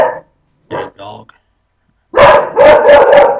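Shrill, loud dog barks at close range, a couple of short yaps followed by a burst of rapid overlapping barking in an indoor home setting.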